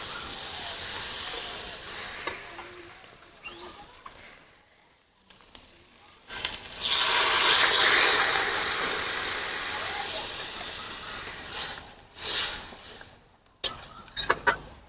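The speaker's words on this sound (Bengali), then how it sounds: "এবারে জল দিয়ে দেবো" Water added to a pan of fried egg, potato and soybean curry sets off a loud surge of hissing steam and sizzle that rises, fades, then flares again in bursts, with faint voice sounds at times.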